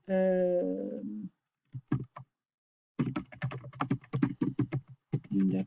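Team names typed on a computer keyboard: quick bursts of close key clicks following a short stretch of talking.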